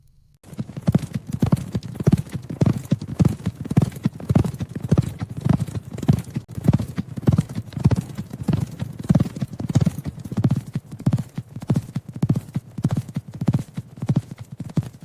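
Steady, rhythmic clip-clop of several ridden horses' hooves trotting close by on the Montana range, continuous throughout, with no voices.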